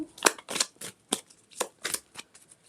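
Tarot cards shuffled and split into three piles by hand, a quick series of crisp riffling snaps and slaps close up, about nine short bursts with brief gaps between them.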